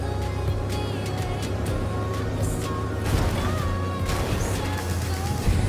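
Car engines in the video game Cyberpunk 2077 roar and rev with a crash-like impact midway as a car runs over another car, over a steady loud background of music and effects.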